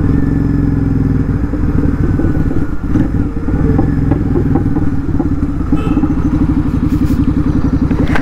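Royal Enfield GT650 motorcycle ridden on the road, its steady engine rumble running loud and continuous throughout, with occasional clatter and thuds from the road.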